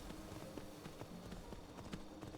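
Horse hooves riding through the night in Skyrim, a steady run of soft clip-clop footfalls at an even, moderate pace over a low ambient bed, with no talking.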